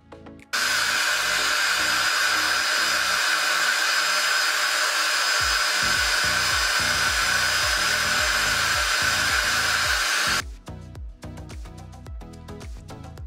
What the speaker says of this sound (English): I use a hand dryer to heat it and I apply cream just to take the hair backward before I tie it.